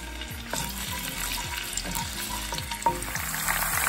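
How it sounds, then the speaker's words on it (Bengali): Garlic fries in oil over medium heat with a steady sizzle, and a utensil scrapes the pan in a regular stirring rhythm roughly every half second. "তেলটা একটু গরম হলে আমরা প্রথমে রসুনটা দিব।"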